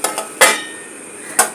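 A lid is set down over a cooking pan of frying rangalau (pumpkin) leaves, giving three sharp metallic clinks: two light taps at the start, a louder clank, then a final knock after a pause, with no talking.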